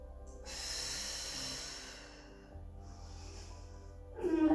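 A soft, breathy exhale during a slow yoga back extension, faint and drawn out over a few seconds, with a brief gasp-like snort of air near the end and no talking.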